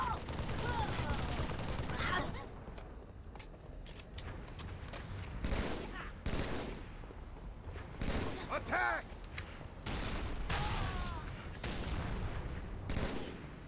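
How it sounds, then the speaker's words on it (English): Fuel rod guns firing in the shooter game Halo 3, repeated bursts and heavy shots scattered through busy combat with a player talking over the action. "I see fuel rods firing up ahead."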